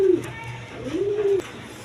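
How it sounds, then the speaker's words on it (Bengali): A pair of big Romal gal pigeons coo close by, two clear throaty rolling coos, one at the start and a longer one midway, over faint room noise. "এখানে এক পেয়ার রোমাল গাল কবুতর আছে দেখেন"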